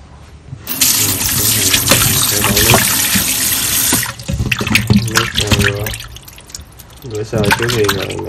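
Tap water runs steadily into a sink over raw chicken thighs being rinsed, a loud continuous gush that stops briefly and then resumes, with a person talking over it.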